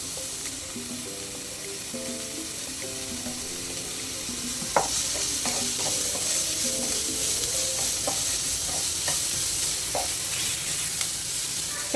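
Capsicum and carrot sautéing in a pan, with a steady close sizzle and repeated light scrapes and taps of a spatula stirring the vegetables.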